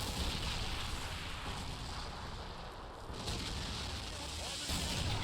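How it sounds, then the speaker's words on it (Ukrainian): Artillery firing in the video game Men of War during a 1944 battle, a dense rumbling barrage of booms that rolls on continuously, loud and layered, with battlefield noise throughout. "працює артилерія."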